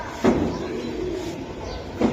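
A large breeder pigeon gives two low throaty coos, one near the start and one near the end, over quiet background hiss with no talk.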